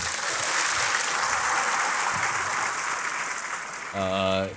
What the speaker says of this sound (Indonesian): Monggo, tepuk tangan semua untuk Pak Nur.